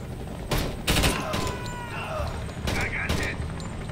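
Rapid gunfire in the tactical game Door Kickers 2: several sharp, loud shots in quick bursts spread over a few seconds, with ringing tails and faint mechanical sounds, while a voice talks over it.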